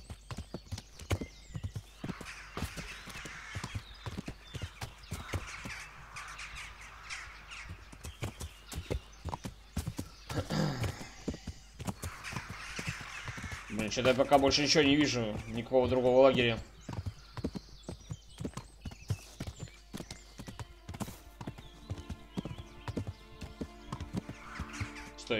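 Horse hooves clip-clopping along a road in the medieval video game Kingdom Come: Deliverance, a steady rhythmic trot with a whinny partway through, heard under someone talking and game sounds.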